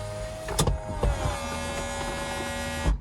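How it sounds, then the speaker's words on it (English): A BMW Z4 convertible top's electric motor whines steadily nearby for a few seconds, with a few mechanical clunks at the start and end. "let's make sure that this top mechanism even works"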